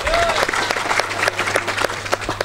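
A large crowd at a religious haul gathering at an Islamic boarding school claps steadily, dense and loud throughout, with some voices faintly mixed in.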